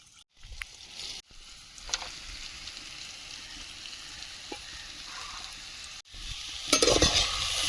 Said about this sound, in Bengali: সবজিটা সুন্দরভাবে ভাজা হয়েছে